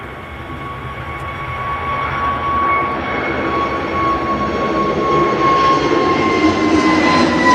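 A jet airliner accelerates down the runway at Manchester Airport and rotates early, a sustained broadband engine roar with steady whining tones building gradually in loudness, heard at moderate distance with no talk.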